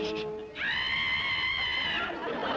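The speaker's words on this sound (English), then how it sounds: "I can't wait to hear her shriek with joy." A woman lets out a long, high, sustained shriek of joy, preceded by a brief bit of clamor and ending in a rising squeal.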